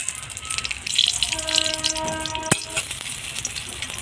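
Dried red chillies and two bay leaves sizzle and crackle in hot mustard oil in a pan, a steady close frying hiss with a few sharp pops and clinks.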